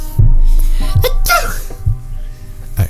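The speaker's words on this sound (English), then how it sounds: "I sneeze." A single sharp sneeze bursts out close up, surrounded by a few small breaths and clicks.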